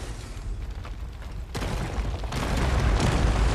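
Crunching impacts and rumbling debris as a boulder is smashed in the video game Dragon's Dogma 2, a heavy burst breaking in sharply partway through and followed by sustained loud rubble noise.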